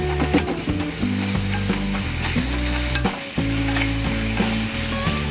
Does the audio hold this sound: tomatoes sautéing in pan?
yes